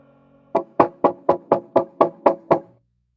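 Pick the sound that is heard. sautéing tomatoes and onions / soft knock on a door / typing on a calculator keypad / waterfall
soft knock on a door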